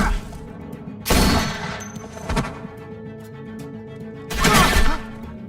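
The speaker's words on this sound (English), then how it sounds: "I hear gunfire." Gunfire in The Walking Dead Telltale video game: two loud bursts of shots about three seconds apart, each lasting under a second, over a low game ambience.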